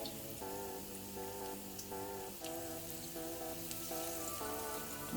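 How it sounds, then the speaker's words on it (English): Nigerian akara bean fritters frying in hot oil, a steady crackling sizzle like light rain, with a faint music bed underneath. "you want to fry this for about 8 to 10 minutes"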